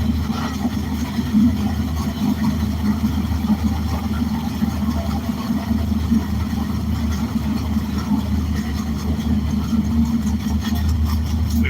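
A race car engine runs steady and loud through a pull, a constant low drone with a slight rough pulse, holding one pitch all the way with no voices over it.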